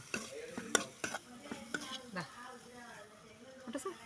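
A utensil scrapes and taps in a pan while drumstick flowers and egg are stir-fried, with soft irregular clinks over a faint sizzle, close by and fairly quiet.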